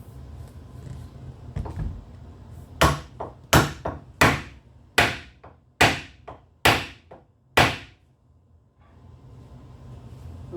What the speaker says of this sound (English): now we're going to take and drive our cup center in, and I'm going to do that over here on my workbench